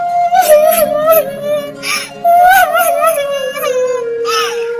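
A high voice imitates a cartoon bird crying, with wavering sobs and whimpers in uneven bursts, close and loud.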